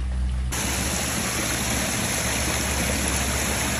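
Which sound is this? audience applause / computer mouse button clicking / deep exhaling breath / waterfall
waterfall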